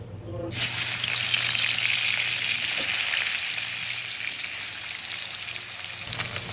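Petuk fish rubbed with salt and turmeric hit hot oil in a pan, starting with a sudden bright sizzle that holds steady and loud throughout, with faint clinks near the end.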